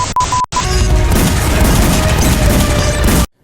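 Dense, continuous burst of gunfire and crashing impacts in a Gadar 2 film scene, loud and sustained for several seconds after a brief tonal beeping intro.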